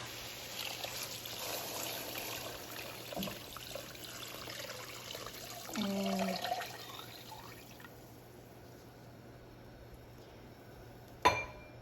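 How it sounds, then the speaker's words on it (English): Eight cups of water poured into a pot to make pork sinigang broth: a soft, steady splashing stream under a low kitchen hum, fading out, with a single brief spoken word. "Add 8 cups of water."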